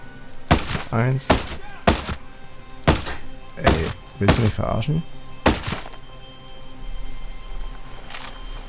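Sharp gunshots in the video game Ghost Recon Breakpoint ring out in a loose series, about eight or nine loud bangs spaced irregularly, with a man briefly exclaiming between them.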